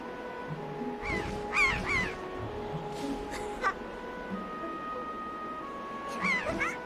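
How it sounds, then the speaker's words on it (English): A gigantic bird in Zelda: Wind Waker gives repeated cawing, crow-like cries in a few clustered bursts over steady game background noise, with speech present alongside. "From out of the sun comes the gigantic bird."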